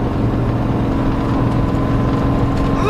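Rear-wheel-drive Volvo engine running while driving on a very rough road, a loud, steady low drone with road rumble and no talking.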